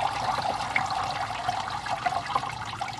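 Running water rinses an agate rock, a steady close hiss and splash of flowing water with gurgling bursts and no talking.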